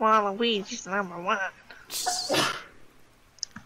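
A sneeze bursts out loud and close after a stretch of speech, a sharp noisy blast with a short tail, during a Minecraft multiplayer session.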